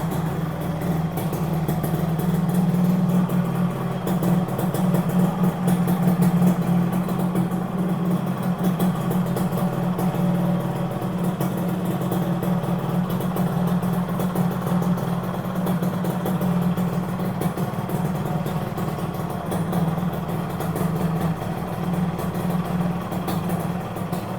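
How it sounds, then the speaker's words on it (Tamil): A customized, restored Yamaha RX 135 two-stroke motorcycle idles at close range with a steady, loud, low-pitched burble. It holds an even rhythm throughout, with no voices. "இப்போ நான் வெஹிக்கிளை வந்து ஸ்டார்ட் பண்ணி காமிக்கிறேன். இன்ஜினோட ஹீட்டை மட்டும் கேளுங்க."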